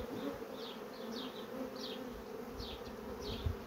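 Honeybees buzz around hives at an apiary while colonies are moved, a steady low drone with repeated short higher whines as individual bees fly past close by, with no voices.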